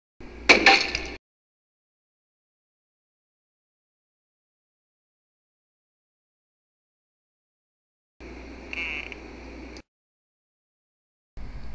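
A door bangs shut sharply at the start; after a long silence, a second door mechanism rattles and slides for about two seconds, with a brief third knock at the end.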